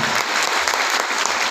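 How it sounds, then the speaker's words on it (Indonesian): A brief burst of loud, dense clapping from an audience at a regional early-childhood educators' training event in Central Java, continuous and close for just over a second. "Berikan tepuk tangan bagi kita semua."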